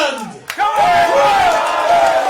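Crowd at an England Community Lions U19s versus France match roaring and chanting loudly after a sharp smack, a sustained swelling wall of voices.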